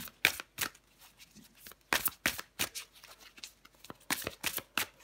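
Tarot cards are shuffled for a reading in close, crisp bursts of riffling and flicking, several quick clusters separated by brief quiet pauses.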